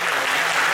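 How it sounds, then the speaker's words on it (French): Audience applause at a French magic show, a short, dense, steady burst of many hands clapping at close range with no voices over it. "on peut l'applaudir bien fort quand même, Héloïse."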